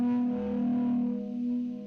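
Electric guitar played through a Joyo Classic Chorus pedal, a sustained chord with a shimmering, wavering modulated tone ringing steadily and close, alone without voices.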